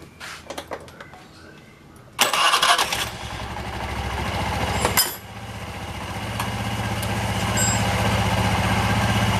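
A scooter engine is started for a CVT clutch test, with a few clicks and clanks before it catches loudly, then drops to a steady, close idle that rises slightly and holds.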